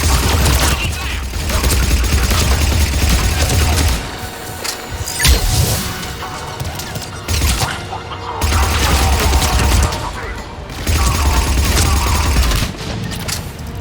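Heavy gunfire during an attack in Mass Effect 3: continuous loud bursts of weapon fire and clatter, with brief lulls and sharper shots, under a dense battle din.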